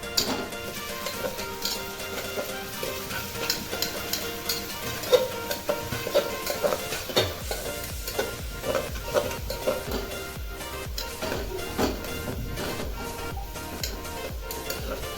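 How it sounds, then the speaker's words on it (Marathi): Ginger-garlic paste sautés in oil for a chicken dish, a dense busy sizzle with light scraping and clinks throughout, fairly close, no voices. "अद्रक लसूण ते पण छान असं परतून घ्यायचं आहे तेलामध्ये"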